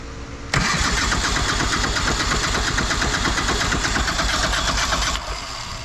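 A small engine with its choke on cranks loudly and rapidly for about four and a half seconds in an even churning rhythm, then cuts off without settling into an idle.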